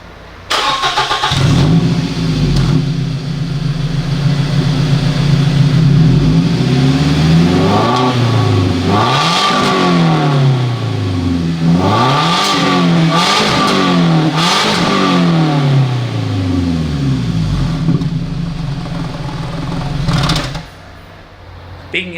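A Scion tC engine with its muffler opened up revs loudly again and again, with harsh, raspy throttle blips that climb and fall above a rough idle, heard up close for about twenty seconds.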